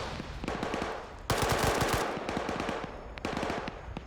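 Rapid automatic gunfire in a multiplayer shooter match, loud and close, bursts of rattling shots with a brief pause then a heavier volley and more bursts, no talk over it.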